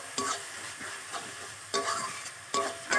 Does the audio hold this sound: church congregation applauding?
no